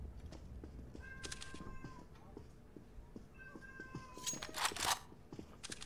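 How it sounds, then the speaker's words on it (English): A cat meows several times in drawn-out calls, moderately close, over a busy background of clicks and rustling, with a faint voice now and then. "I think a cat wants attention."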